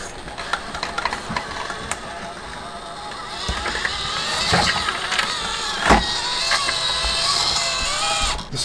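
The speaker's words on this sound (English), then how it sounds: "This motor is so smooth. So much control." A tiny Furitek micro RC car's electric motor whirs at close range, its thin high whine rising and falling with throttle changes, broken by small clicks and knocks as the car moves.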